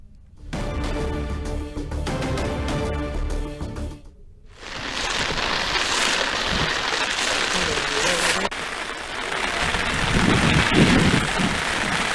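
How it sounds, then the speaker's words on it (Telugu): Heavy rain pours steadily during flooding at a waterlogged tribal residential school in Devarakonda, Nalgonda district, a dense, continuous hiss that swells louder after a brief pause early on. "నల్గొండ జిల్లా దేవరకొండలో వర్షం బీభత్సాన్ని సృష్టిస్తూ ఉంది"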